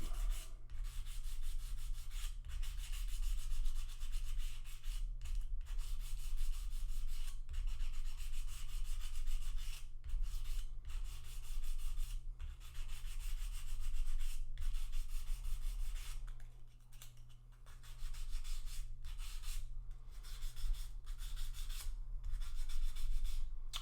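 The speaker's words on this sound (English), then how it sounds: "I'm just polishing the sides of the fret." Steady hand sanding of guitar fret sides with 400 grit sandpaper, a continuous close rasping rub with brief pauses between strokes, no voices.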